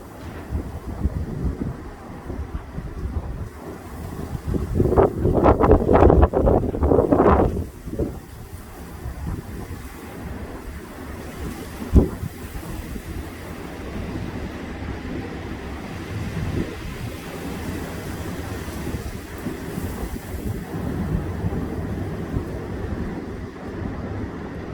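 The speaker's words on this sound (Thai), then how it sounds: "ลมแรงจ้ะลมแรงลมพัดแหงขนาดเลยจ้ะ" Strong, dry gusting wind on an overcast day roars across the microphone, swelling into a loud buffeting burst before settling into a steady rushing bluster with occasional sharp thumps; no one speaks.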